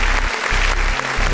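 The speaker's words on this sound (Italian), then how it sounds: "ho anche l'applauso signori" A canned applause sound effect played by a streamer during a quiz-game night, a loud, even crowd clap-and-cheer texture with a faint low hum dropping out briefly.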